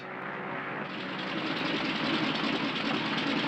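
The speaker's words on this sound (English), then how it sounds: "Engine trouble, sir. We'll have to go back to the field." An aircraft engine running roughly with trouble, giving a loud continuous droning rumble that grows slightly heavier partway through.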